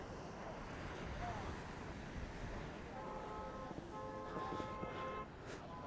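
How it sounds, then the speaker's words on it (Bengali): Sea waves surge onto Tajpur beach near Digha in a steady broadband wash with wind buffeting the microphone, while faint tonal sounds drift in over the last few seconds. "দারুণ জলোচ্ছ্বাস রয়েছে"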